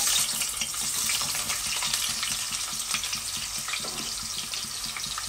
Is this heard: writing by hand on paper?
no